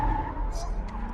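A car skidding with a short, smeared tire screech that rises briefly mid-way over a loud rumbling engine and road noise, close by, with a voice talking underneath.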